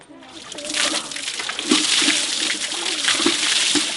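Water is poured from a bucket over someone bathing, making continuous splashing and sloshing that swells and recedes in uneven surges, fairly close, with voices talking over it.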